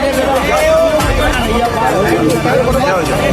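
Crowd hubbub as fans press in around a celebrity for selfies, a dense babble of overlapping voices close by with excited shouts rising out of the noisy mix throughout.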